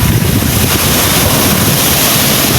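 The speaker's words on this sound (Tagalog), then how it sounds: "Grabe po yung laki ng alon." Loud, steady roar of heavy surf crashing, mixed with gusty wind buffeting the microphone, continuous throughout with no voices.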